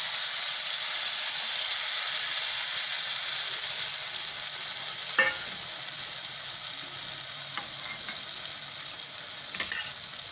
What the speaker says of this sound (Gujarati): હવે આપણે આ બધી કઢી નાખી દઈએ અંદર.